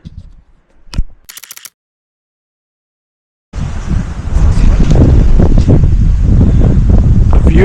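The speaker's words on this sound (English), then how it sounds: "It all of a sudden got windier and colder." Cold wind gusts on a mountain trail near the summit of Mount Marcy. A few clicks and a brief quiet stretch give way to loud, steady, roaring wind buffeting the microphone.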